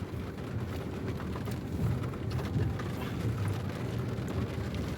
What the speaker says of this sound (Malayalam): ഭയങ്കര മഞ്ഞും ഭയങ്കര മഴയാണ്